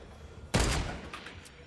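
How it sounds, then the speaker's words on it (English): Sniper gunfire in the video game Fortnite Battle Royale: one sharp, loud shot cracks out, followed by a few fainter echoing reports trailing off, with no talking. "I'm being sniped at"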